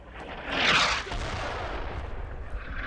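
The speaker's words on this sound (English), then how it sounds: "Mortars, wonderful." A mortar round fires in the World War II game Brothers In Arms: Road to Hill 30, a loud, close boom with a hissing burst that fades into a low, rumbling battlefield din.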